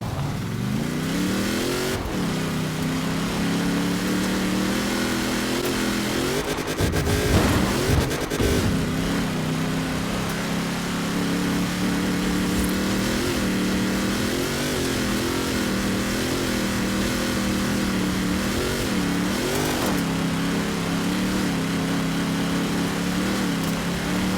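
In Forza Horizon 4, a Ram Power Wagon truck engine labours up an offroad hill climb, a steady loud droning roar with rising and falling revs throughout, briefly roughening midway, with no talk.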